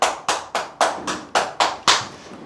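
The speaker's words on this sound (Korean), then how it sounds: "박수" Closing a lecture, eight sharp, evenly spaced claps ring out in a steady rhythm, each loud and crisp with a short decay, with no talk over them.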